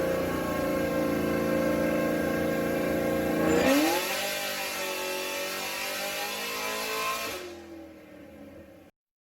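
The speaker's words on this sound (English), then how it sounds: "So they dyno it, and check out how it dynoed" A Whipple-supercharged sixth-generation Camaro runs on a hub dyno on E60 fuel. The engine holds a steady mid-pitched drone, then sweeps up through a hard pull with supercharger whine before lifting off and cutting out near the end.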